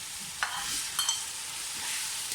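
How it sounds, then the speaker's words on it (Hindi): Mutton pieces fry with tomatoes in butter and oil for namkeen gosht, making a close, continuous sizzle with a few quick scrapes from a spoon stirring the pan. "टमाटरों के साथ बुनाई करें।"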